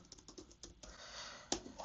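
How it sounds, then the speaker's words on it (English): Keys clatter on a computer keyboard at a quick, uneven typing rhythm, ending with a sharper, louder press of the enter key; close and moderately quiet, with no voices. "hit the enter key on your keyboard"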